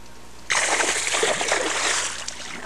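A big bass hooked on a plastic worm thrashes at the surface, a sudden loud splash that breaks in and churns the water in a sustained spray before easing off.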